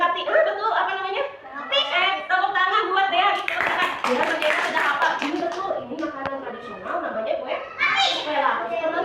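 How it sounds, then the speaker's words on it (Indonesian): Children in an Indonesian classroom clap together for a classmate, a steady crowd of quick hand claps running throughout, mixed with children's chatter and a teacher's voice. "Tepuk tangan buat Dea."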